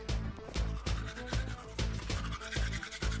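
Toothbrush scrubbing teeth loaded with clay and toothpaste, a close, steady run of rhythmic rasping strokes, roughly two or three per second, heard alone with no talking.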